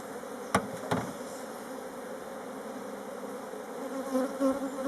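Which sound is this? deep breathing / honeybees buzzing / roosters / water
honeybees buzzing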